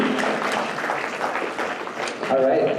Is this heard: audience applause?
yes